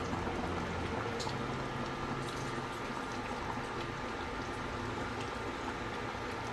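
Mutton sambar boiling steadily in a covered pot, a dense continuous bubbling and simmering that stays even and fairly loud throughout with no talking.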